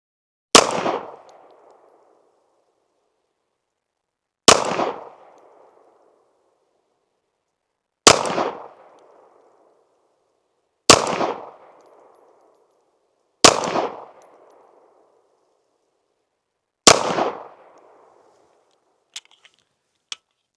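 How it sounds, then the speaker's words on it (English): Six loud, sharp pistol shots from an Archon Type B Gen 2 firing Armscor 124 grain full metal jacket rounds at a range, spaced a few seconds apart, each with a short decaying echo. "Arms Core 124 grain, full metal jacket. See if we can shoot this accurately."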